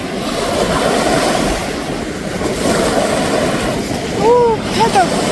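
Sea waves rolling onto the shore at Sokcho, Korea, a loud, constant wash and surge with wind buffeting the microphone, and a voice exclaiming briefly near the end.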